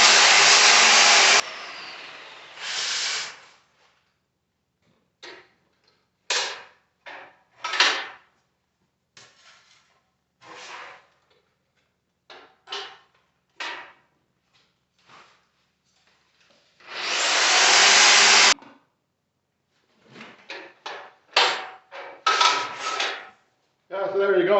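Power sander smoothing a metal patch for a 1985 BMW 633 CSi fuel tank repair, heard in a long whining burst, a shorter one and a final sustained run, separated by clanks and scraping handling noises in a workshop.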